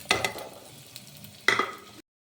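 Shallots dropped into hot oil in a pan for Kollam-style clam thoran, two short bursts of crackling sizzle with stirring clatter between, fairly faint before cutting to silence.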